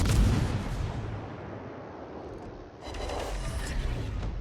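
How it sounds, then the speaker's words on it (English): A naval gun volley of HE shells in a warship game, heard as a deep, close artillery blast, then a rumbling tail and a second burst of fire. "I really was hoping to get three volleys like that"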